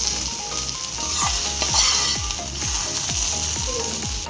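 Prawns roasting in a pan with curry leaves for Nellore-style royyalu fry, a steady loud sizzle with repeated scraping strokes of a spatula, no voices.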